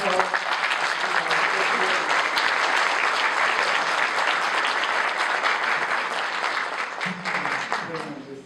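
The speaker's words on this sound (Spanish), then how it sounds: "Un aplauso, por favor." Loud, sustained applause from an audience, steady clapping for several seconds that tapers off slightly toward the end as a voice begins.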